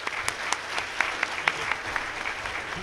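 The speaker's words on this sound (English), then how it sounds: "let's give a big round of applause for Scott" An audience at a hacker conference in 2007 applauds a presenter named Scott, with steady mid-level clapping and a few sharper individual claps standing out.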